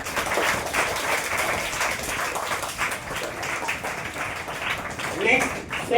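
Students clapping for toppers at a prize ceremony after a grand test, a steady, moderately faint wash of applause running throughout with voices talking over it.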